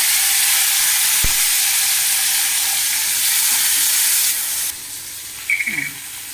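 Half-cooked midki sanga pieces dropped into a hot pan with cumin and ajwain, a loud close sizzling hiss that cuts off and drops to a quieter simmer, with a brief metallic clink near the start.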